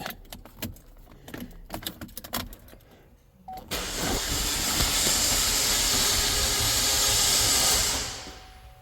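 A damaged Ecotec engine with no compression is cranked by the starter, a few seconds of clicks and clatter, then a loud, even, airy whir that runs several seconds before cutting off, close up and alone.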